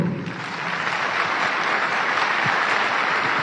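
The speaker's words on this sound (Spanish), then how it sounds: "El aplauso de ustedes, por favor." Dense, steady audience applause fills the space at the opening of an international culture festival at Villa Imperial in Potosí, Bolivia, a continuous wash of many hands with no voices over it.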